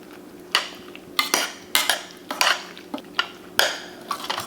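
Clove and cinnamon being stirred into a dish for a smoked holiday roast, a utensil scraping and clinking against the bowl in a run of about eight sharp, close strokes at an irregular pace.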